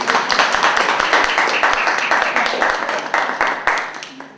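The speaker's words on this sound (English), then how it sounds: "I need to ask you a big round of applause to the other members of the team" An audience at a teaching project presentation gives the team a round of applause, a dense burst of clapping that gradually thins and fades out.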